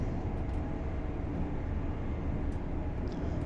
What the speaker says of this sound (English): let's get back nice to the quiet train cab